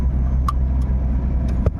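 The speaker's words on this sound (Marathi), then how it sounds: "चला भाई आता जरा गाडी चालवतो" A car engine hums low and steady while driving slowly through traffic in Malegaon, with brief clicks and faint voices over the drone.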